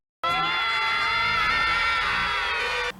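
Screaming skeletons in an animated cartoon let out a loud, sustained, shrill chorus of shrieks and yells that holds steady for nearly three seconds before cutting off.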